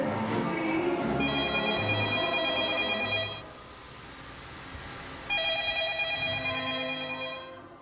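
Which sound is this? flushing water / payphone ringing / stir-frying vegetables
payphone ringing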